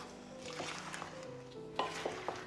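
Soft, faint stirring and light scraping of a utensil through thick batter with apple cubes in a bowl, a few gentle taps near the end.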